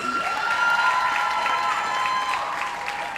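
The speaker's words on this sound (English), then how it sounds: "So I'm gonna ask you to applaud Mr. Lenford Salmon, Executive Director of the JCDC" An audience at a performing arts awards ceremony applauds for Lenford Salmon, executive director of the JCDC, with dense, steady clapping and some cheering throughout, loud and continuous.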